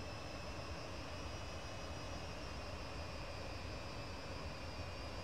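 Jet engines of a VTOL aircraft hold a steady hover at low throttle, a constant dense roar with a thin high whine running evenly throughout, close and unbroken.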